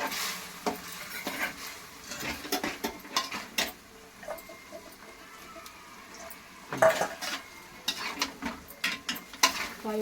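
Gobi manchurian is stirred in a pan, a spoon clattering and scraping against the metal in an irregular rhythm over a faint sizzle, with no talking.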